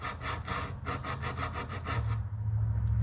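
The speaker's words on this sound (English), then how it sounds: "sandpaper on this edge, so I'm not grinding into that bottom surface" Sandpaper rubbed by hand along the edge of a wooden dovetail on a jewelry box, a quick series of close, rhythmic rasping strokes that gives way to a steadier low hum at the end.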